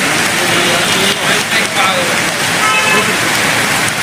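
Rain pours over a busy street, a dense steady hiss mixed with passing vehicles and horn toots, loud and continuous, with people talking in the background.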